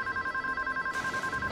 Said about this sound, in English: Satellite phone.